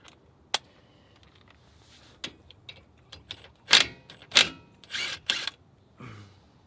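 Work on the front brakes of a 2011-2016 Scion tC, with a 14mm socket loosening a caliper bolt: sharp metallic clicks and ratchet-like bursts, several louder clanks in quick succession, close by with no talk.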